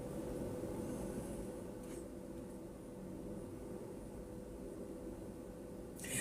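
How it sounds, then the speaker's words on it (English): A train rumbles past continuously, low and steady, heard from a distance and fairly faint, with brief rises in noise but no talking. "We'll let the train have its moment."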